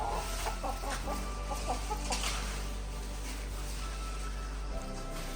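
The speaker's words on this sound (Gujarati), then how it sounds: "બાકી આપણા કુકડા" Farmyard chickens and roosters clucking steadily at close range, with a few sharper bursts in the first two seconds over a constant low hum and outdoor background.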